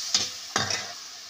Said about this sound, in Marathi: आता पळीना मिक्स करून घ्यायचे ते सोयाबीन आपले मसाल्यामध्ये